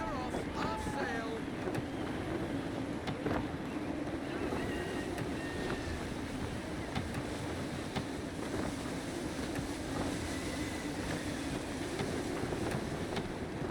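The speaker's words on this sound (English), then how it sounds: "Gusty winds can be difficult to manage." Gusty wind and waves around a sailing ship at sea in Assassin's Creed III, a steady broadband rush of wind and water with creaking and splashes running throughout, loud and continuous.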